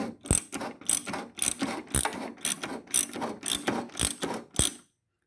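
A self-propelled lawn mower's drive output shaft being turned by hand, giving a run of ratcheting, geared clicks in a steady rhythm, about ten bursts close up before it falls silent.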